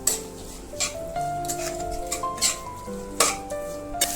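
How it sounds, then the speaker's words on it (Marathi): A masala of dark sauce and green chilli sauce is stirred in a pan, with several separate scraping strokes over a soft sizzle, all close up and set against steady background music. "आता हे आपण प्रॉपर मिक्स करून घेणार"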